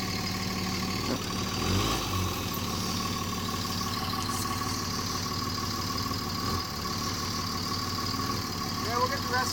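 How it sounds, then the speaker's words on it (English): A truck engine idles steadily while pulling out a stuck car, a close, continuous rumble with a slight rise partway through. A voice speaks over it. "Jesse's gonna try and pull out Mikey's car now"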